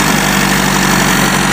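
Owner-type jeep engine running after a push-start with a dead starter, a loud, close, steady idle with a rough, even throb and no voices.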